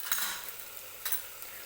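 Spoon stirring turmeric, cumin powder and coriander powder into masale bhaat in a pan, a soft scraping with a couple of brief louder strokes, close and quiet.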